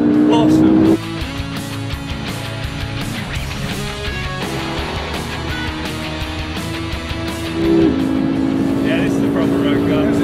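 A McLaren MP4-12C sports car drives with a loud, steady engine drone whose pitch drops at about one second and climbs again near eight seconds, as it shifts and accelerates, with no talk.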